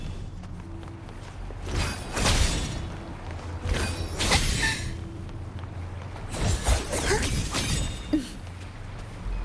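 In Wuthering Waves, a photon barrier shatters under ranged photon bolt attacks. Repeated crashing bursts sound with whooshes and thuds over a low rumbling game soundscape.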